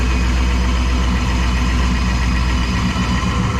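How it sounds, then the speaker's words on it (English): A supercharged car engine idles steadily up close, a continuous low rumble with a thin, sustained supercharger whine running on top throughout. "up here you got that supercharger whine going on here. You can hear that really well."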